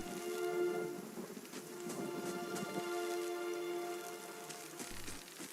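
Steady rain falls in the fantasy role-playing game Pillars of Eternity, a soft, continuous patter with scattered drop hits beneath quiet tonal game ambience, with no voices.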